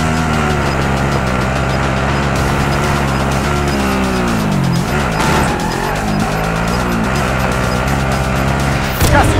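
A car in the video game Call of Duty: Modern Warfare, its engine droning loud and steady as it drives, with rising and falling revs, brief tire squeals midway and a sharp knock near the end, under faint talk.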